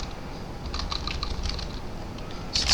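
Rapid, close clicking of keys on a computer keyboard, typed in quick irregular bursts, with no voices.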